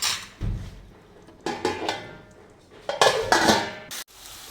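Metal pots and utensils clank a few times in a home kitchen while chicken cooks for chicken mughalai with ghee rice, the lid going on the pan; several close, sharp clatters with brief pauses between.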